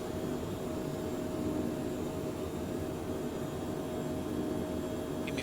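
Jet aircraft climbing out just after takeoff with landing gear retracted, a steady broad roar of engine and airflow noise heard from the cockpit, constant and unbroken with no talk.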